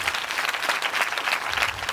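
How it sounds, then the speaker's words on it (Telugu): Sustained audience applause for Jesus at a Christian testimony gathering, dense steady clapping from a crowd filling the whole stretch without pause. "చప్పట్లు కొడతారు యేసయ్యకు."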